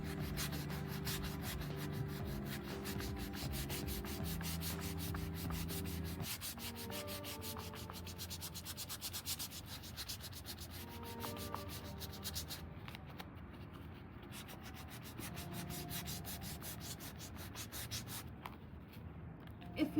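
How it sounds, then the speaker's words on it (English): Tissue rubs to blend oil pastels on paper for a sunset landscape drawing, a close, dry, steady scrubbing in quick repeated strokes that keeps going for the whole stretch, alone without talking. "I'm going to take a fresh side of this tissue. I'm going to blend this as well."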